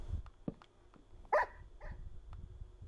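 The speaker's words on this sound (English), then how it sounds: "Dog." Dog in the Minecraft video game, a single sharp bark near the middle with fainter soft sounds around it, quiet and set against a low background hum.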